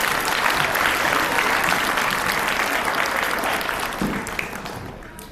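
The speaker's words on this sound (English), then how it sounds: "Let's give them a round of applause." A school audience at a veterans honors event gives a round of applause, dense crowd clapping that holds steady for several seconds and then tapers off, with faint voices underneath.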